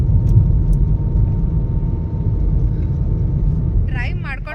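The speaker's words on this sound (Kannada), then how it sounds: "ಗೇರ್ ಚೇಂಜ್ ಮಾಡಿದ ಕೂಡಲೇ ಗುರ್ರ ಅಂತ ಸೌಂಡ್ ಬರುತ್ತೆ" A car engine runs right after a gear change, a steady low rumble and whir inside the vehicle throughout, with a voice briefly heard near the end.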